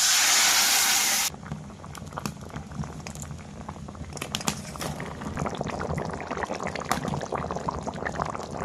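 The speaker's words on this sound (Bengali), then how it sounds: "এখন জল দিয়ে দেব।" Water poured into a pan of taro and river fish curry gives a short loud hiss, then settles into steady bubbling and spattering as the liquid simmers close up.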